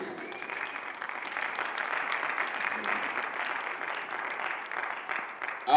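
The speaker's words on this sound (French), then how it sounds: "On acclame très fort notre Dieu." A church congregation applauds steadily, a dense, even patter of many hands clapping that carries on throughout at moderate loudness, with a voice rising at the very end.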